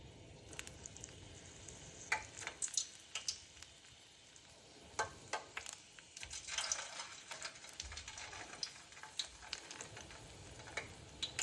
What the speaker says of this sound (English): So now we are going to fry it second time.